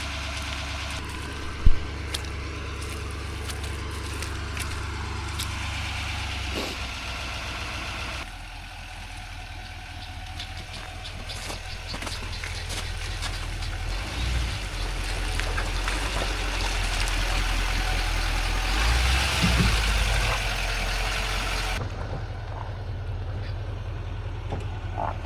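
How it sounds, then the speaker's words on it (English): A truck engine idles and runs steadily at close range, a low continuous rumble with a sharp knock near the start and a rising rev toward the end, no talk over it. "See if we can get this truck out of here."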